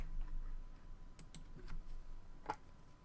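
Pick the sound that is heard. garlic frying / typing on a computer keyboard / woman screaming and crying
typing on a computer keyboard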